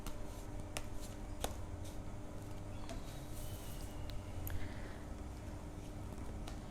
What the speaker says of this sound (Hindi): मैं कार्ड्स शफल कर रही हूँ